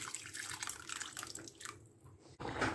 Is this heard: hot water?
yes